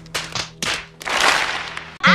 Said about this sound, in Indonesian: makanya saya tepuk tangan aja.